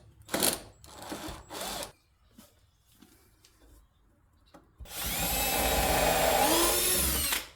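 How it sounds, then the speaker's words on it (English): A power drill bores a pilot hole into a wooden board for a bench build, a steady loud whirring grind lasting almost three seconds, preceded by several short rubbing scrapes on wood. "I pre-drilled a hole down here"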